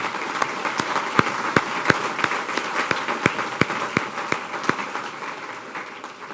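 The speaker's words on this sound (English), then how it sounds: "would you please stand to receive a round of applause?" A business chamber audience applauds healthcare committee members at an awards event. Sustained applause from the crowd runs for several seconds, with distinct sharp individual claps standing out in an irregular rhythm over the dense wash of hands.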